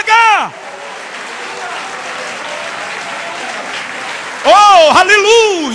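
A church congregation bursts into applause during a Portuguese-language prayer service, a dense steady clapping wash lasting several seconds, framed by a preacher's loud voice before and after.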